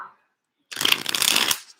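Tarot cards riffled in one quick shuffle, a crisp, close fluttering burst lasting under a second after a moment of silence.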